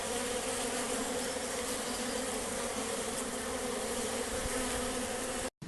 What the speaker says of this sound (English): And yet another hive bringing in loads and loads of pollen.